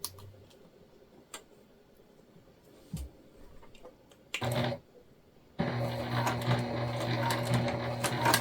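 A sewing machine back stitching a small hip bag sewn from a drafted panel: scattered ticks and clicks, a short whirring burst, then a sustained close run of stitching to the end.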